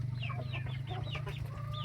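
Chickens cluck and call repeatedly at close range in a rural Thai village where buffalo and cattle are raised, over a steady low hum with no talking.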